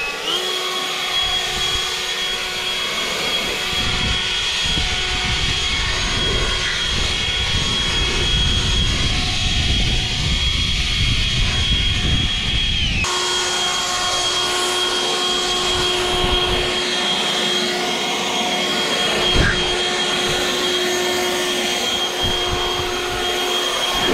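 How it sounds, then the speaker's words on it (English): A Greenworks 60V Pro electric leaf blower roars steadily at close range over thick kikuyu grass, a loud continuous whine that shifts pitch once partway through. "The most powerful electric blower that I've ever used."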